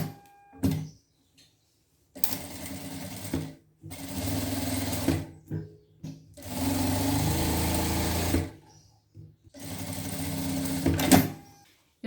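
A sewing machine stitches the lining of a trapeze dress in several short, close bursts of fast mechanical whirring and needle clatter, separated by pauses of near silence, with no speech.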